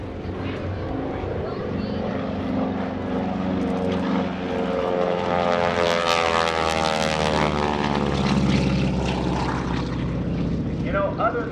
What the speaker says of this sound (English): the growl you hear is actually the sound of the propeller tips going supersonic